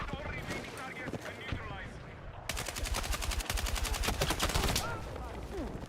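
Bursts of automatic gunfire from the video game Battlefield 6 rattle in dense, rapid volleys, loud and close, with game audio and some talk mixed underneath.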